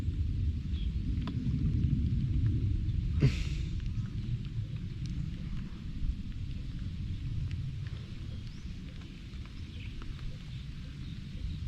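Steady rain patters with a low distant thunder rumble throughout and a brief sharper crack early on, heard at moderate-to-faint level with no voices.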